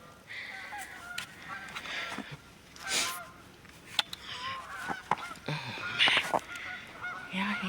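A flock of geese honks in scattered, irregular calls at a moderate distance as the birds fly off, heard alongside faint outdoor rustling on a snowy day.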